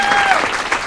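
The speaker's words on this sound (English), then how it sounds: "Another round of applause for our state" A crowd at a city council meeting applauds state champions, a brief burst of dense clapping with voices mixed in.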